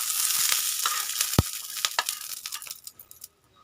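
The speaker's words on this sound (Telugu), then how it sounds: "చూడండి, ఇవి వేగుతున్నాయి." Ingredients for gongura chutney sizzle and fry in a pan, a soft crackling hiss with light stirring scrapes and one sharp clink of utensil on pan, fading toward the end; no talking.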